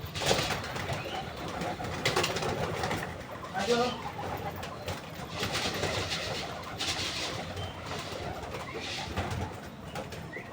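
Pet pigeons coo repeatedly while being shooed into their house, their low, throbbing calls mixing with rustling, shuffling and background noise.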